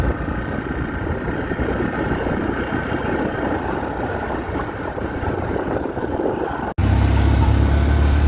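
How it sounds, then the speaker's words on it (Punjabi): Motorcycle climbing a steep mountain road near Mandi in Himachal Pradesh in first and second gear, a steady loud engine drone with rumbling wind buffeting, ending in a sharp cut to a deeper hum. "ਸਾਡਾ ਮੋਟਰਸਾਈਕਲ ਪਹਿਲੇ ਦੂਜੇ ਗੇਅਰ 'ਚ ਜਾ ਰਿਹਾ ਜ਼ਿਆਦਾਤਰ ਤਾਂ ਪਹਿਲੇ ਗੇਅਰ 'ਚ ਜਾ ਰਿਹਾ"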